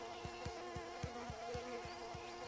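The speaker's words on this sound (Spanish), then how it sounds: "¡Oh, no! ¡Mosquitos!" Buzzing mosquitoes in the Bluey video game, a steady insect drone with regular soft pulses repeating about every half second, heard alone with no talk.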